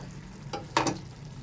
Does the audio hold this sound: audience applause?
no